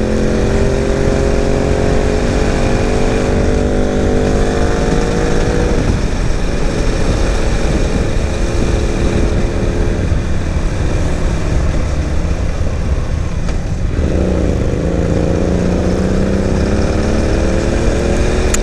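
A Yamaha XT660 single-cylinder motorcycle rides at speed, its engine droning loudly and steadily with rising and falling pitch through gear changes and heavy wind rush throughout.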